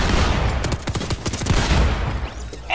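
Pump shotgun blasts in a video game, a rapid flurry of loud, close shots with sharp cracks, then the firing thins out and stops.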